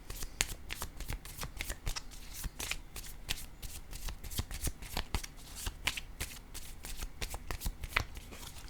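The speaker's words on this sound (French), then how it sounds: "Je vais piger une autre carte." Tarot cards shuffled continuously by hand for a card reading, dense rapid papery flicks and riffles that keep going without a break, close but fairly soft, with no one talking.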